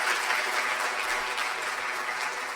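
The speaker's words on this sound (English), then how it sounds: "Can we give him a big clap," Audience applause at a summit, a steady dense wash of many hands clapping that fills the whole stretch at an even level, with no voices standing out.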